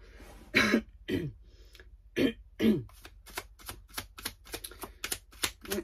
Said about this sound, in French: je suis désolée de me racler la gorge